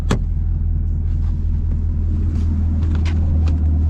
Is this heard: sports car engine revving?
yes